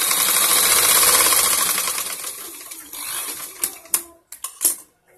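An electric sewing machine stitching a blouse sleeve runs loud and steady with a fast mechanical chatter, then slows and stops, followed by a few scattered knocks and clicks.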